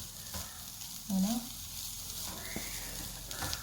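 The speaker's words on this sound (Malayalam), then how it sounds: "തേങ്ങ ഇട്ട് കൊടുത്ത് ഇത് വറുത്തെടുക്കാം. പുളിയും കൂടെ ഇട്ടാണ് വറുക്കുന്നത്." Grated coconut roasts with tamarind in a pan for a thiyal curry, giving a soft, steady sizzle with occasional stirring scrapes, while a voice briefly sounds in the background.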